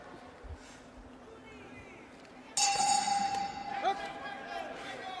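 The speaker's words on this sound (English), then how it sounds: "the timekeeper tolls the bell to begin the first round in this contest scheduled for 3 threes" A boxing bell rings once to open the first round at an Olympic boxing qualifier, a bright clang ringing out over arena crowd noise and commentary, then fading.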